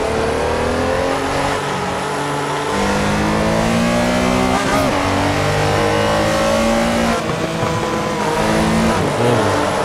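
A Porsche 911 Carrera RSR 3.0 in the Assetto Corsa racing game, at Silverstone GP, roars loudly and steadily, its engine pitch climbing and dropping through gear changes with constant revving.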